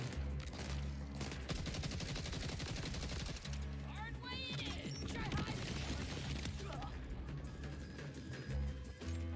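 Gunfire from a weapon in the video game Borderlands 4, dense rapid shots and crashing impacts piling up continuously and loudly, with a game soundtrack and effects layered underneath.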